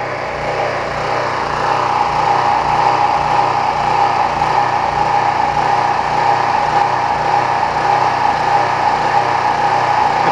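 Small gasoline engine running steadily at high speed as it burns the last fuel from its carburetor, a loud continuous drone that stays level without sputtering out.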